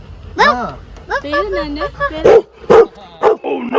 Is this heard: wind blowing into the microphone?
no